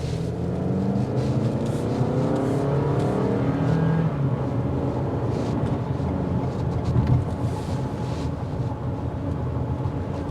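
A 2023 Toyota RAV4 XLE driving and accelerating, steady engine drone blended with broad road and tire noise heard from inside the cabin, moderately loud and continuous with no talking.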